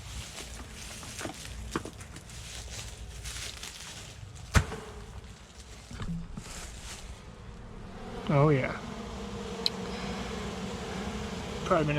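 Honeybees buzz in a dense, continuous drone during removal of a hive from a hollow tree, with scattered thumps and someone speaking briefly.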